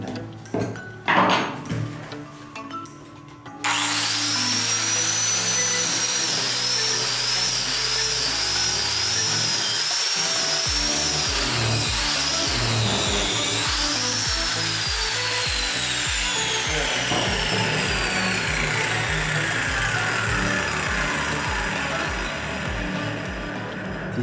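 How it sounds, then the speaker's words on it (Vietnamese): An angle grinder with a wood scrub disc grinds into wood. After a few seconds of handling knocks, a loud continuous whine rises, dips and wavers as the disc bites, then slowly falls in pitch over about twenty seconds. "sau khi chúng ta sử dụng cái đĩa mài phá này, chúng ta phá thì cái độ sâu rất là sâu này"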